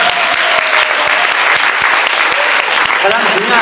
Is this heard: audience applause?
yes